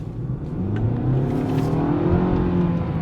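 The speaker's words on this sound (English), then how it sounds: "Definitely revving it up a little bit, and I like the sound of that." A 2020 Nissan Altima sedan's engine revs up as the car accelerates, pitch climbing smoothly over a few seconds, close and fairly loud with no talking.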